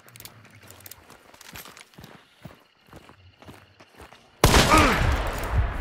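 Gunfire in the video game Hunt: Showdown, starting with quiet footsteps and clicks, then a sudden loud burst of shots near the end that stays heavy and sustained.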